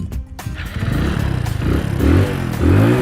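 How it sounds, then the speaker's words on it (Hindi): A motorcycle fuelled with alcohol instead of petrol starts, its engine catching with a clatter and then idling and revving in close, loud, uneven pulses, with no talk. "बाइक में अल्कोहल डालने के बाद बाइक स्टार्ट भी हो गई"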